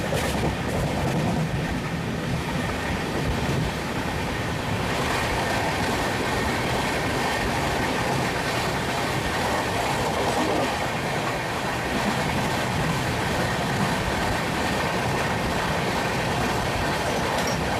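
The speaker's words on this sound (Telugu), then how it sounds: "సర్పవరం రైల్వే స్టేషన్ స్కిప్ చేస్తున్నాం." The Cocanada Express runs along the rails past a station, a continuous close clickety-clack of wheels with a steady heavy rumble inside the moving train and no talk.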